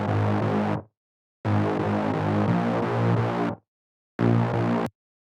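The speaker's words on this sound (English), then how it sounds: "It is just a super saw bass and it sounds like this." A synthesized super saw bass for a future bass drop plays in three bursts with abrupt cutoffs, a thick, buzzing, loud chordal tone alone with silent gaps between.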